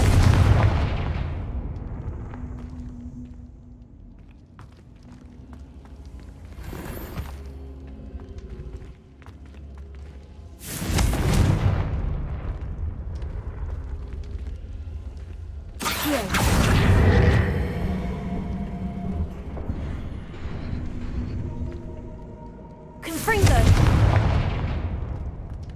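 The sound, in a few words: Confringo fire spell explosions in the video game Hogwarts Legacy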